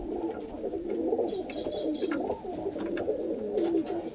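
Pigeons kept at home cackle and coo in repeated throaty rolling phrases at close range, steady and fairly soft, with faint clicks and no talk over them.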